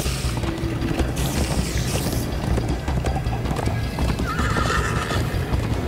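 A horse gallops and neighs in the video game Minecraft Story Mode. Rapid, continuous hoofbeats drive on beneath loud, shrill whinnies, with rushing movement sounds throughout.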